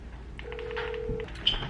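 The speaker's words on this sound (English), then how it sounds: "Let me call Grant back." A phone ringing out on a call, heard as a single steady ring tone lasting under a second, fairly faint behind low room noise with a brief click near the end.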